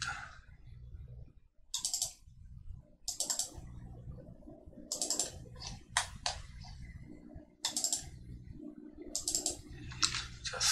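Mouse clicks and keyboard presses while working in interior design software, coming in short bursts of quick, close, crisp clicks separated by pauses, over a faint low background hum and with no talking.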